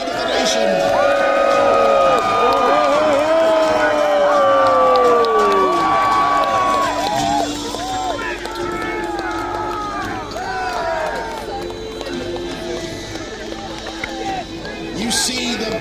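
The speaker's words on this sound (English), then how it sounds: "Give them a cheer." A large outdoor crowd at a Battle of Hastings reenactment cheers and shouts loudly for about eight seconds, then settles into a lively hubbub of voices and scattered calls.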